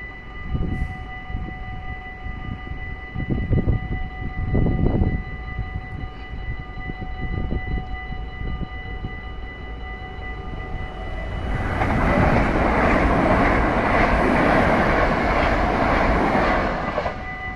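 An SNG passenger train passes, its rumble building into a loud, broadband rush of wheels and rail noise in the second half, preceded by quieter rumbling and a few thumps.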